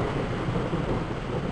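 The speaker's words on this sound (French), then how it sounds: "L'orage est toujours là bien sûr," Thunder from a June thunderstorm rumbles steadily and loudly over dense falling rain, with no voices.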